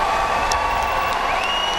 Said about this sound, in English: how about a big round of applause for both these featherweights?